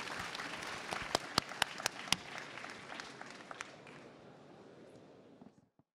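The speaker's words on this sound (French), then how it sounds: "je crois qu'on peut les applaudir tous les trois" An audience at an e-marketing conference in Paris applauds three speakers: a soft, moderately distant round of clapping with a few sharper individual claps, gradually thinning out and fading to silence.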